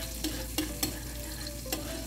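Garlic and onion fry in a pan, a quiet steady sizzle with four or five sharp spatula clicks and scrapes spaced irregularly, close up and with no talking.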